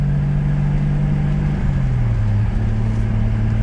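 A Toyota Supra with a 7M turbo engine idles steadily up close, its low hum holding an even pitch that dips briefly and settles, with no talking over it.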